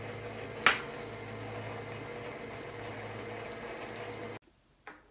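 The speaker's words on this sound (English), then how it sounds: "turn it on to stir until well combined" A stand mixer stirs egg yolks and vanilla into snickerdoodle cookie dough, giving a steady, even motor whir with one brief clack early on. The whir cuts off shortly before the end.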